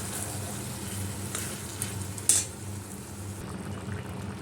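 Chili chicken sizzles and fries in a pan, a steady crackling hiss holding at an even level with a brief clatter midway, close and alone with no voices.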